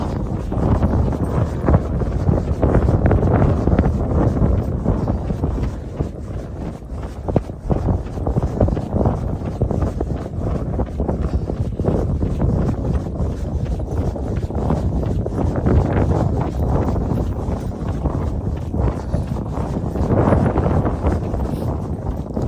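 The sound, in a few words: wind blowing on a desert run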